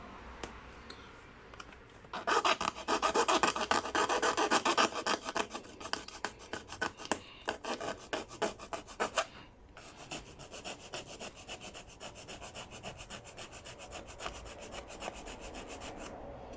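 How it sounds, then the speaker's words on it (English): Sanding plastic on a laptop hinge repair, rapid repetitive scratchy rasping strokes close up, starting after a quiet moment, loud at first then steady and slightly softer, with no talking. "I'm just going to sand it down until we reach that mark."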